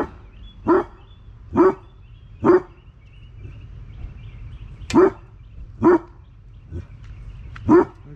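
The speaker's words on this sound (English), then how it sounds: "I think it's a girl dog." A female dog barks sharply about eight times at a steady, unhurried pace, each bark close and distinct against a quiet room.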